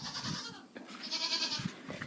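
Goats bleat in a few short, nasal calls during morning feeding on a farm, close but fairly quiet, with faint barn noise between them.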